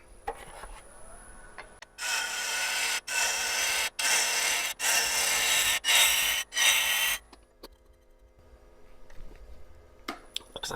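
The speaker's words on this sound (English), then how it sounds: "Switch to a smaller bowl gouge here real quick if it has an edge." A smaller bowl gouge cutting padauk and plywood on a woodturning lathe, about five seconds of loud, steady scraping shaved into several bursts by short pauses, then quiet.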